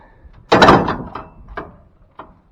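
A hinged tailgate on a tractor-pulled silage trailer slams shut with one loud, close metallic bang that rings off quickly, then a few lighter clanks and rattles follow; no voices.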